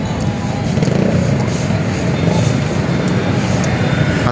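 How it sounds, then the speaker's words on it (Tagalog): A forklift drives out from a riverside esplanade work site along the Pasig River, its engine a continuous low drone that stays fairly loud and even over busy background noise, with some faint voices. "At lalabas to. Itong forklift na to."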